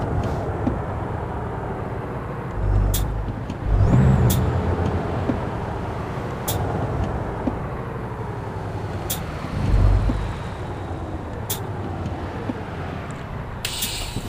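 A truck in American Truck Simulator drives with a low rumbling engine that rises and falls through gear changes, with sharp mechanical clicks recurring every couple of seconds.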